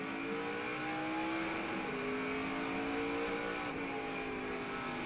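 Onboard Travis Pastrana's NASCAR Toyota race car at the 2011 All Star Showdown, a sustained engine drone with rising and shifting pitch and a brief gear change, steady and moderately distant within the cockpit, with no talk.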